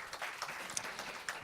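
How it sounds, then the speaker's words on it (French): Audience applause at a round-table discussion, a dense and fairly even patter of many hands clapping for a moment, heard at moderate loudness. "Des applaudissements pour elle, merci."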